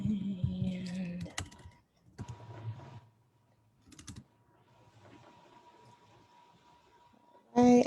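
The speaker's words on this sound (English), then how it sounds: "I'm just typing in one more name and then we are good to go" Scattered keystrokes tap on a computer keyboard in short bursts with quiet gaps between them, and a voice speaks briefly at the start and end.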